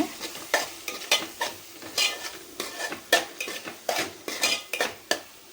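A utensil scrapes and clinks rhythmically against a pan while curry masala powder sautés with tomato and onion, each stroke a sharp close scrape over a soft sizzle, repeating steadily with no voices.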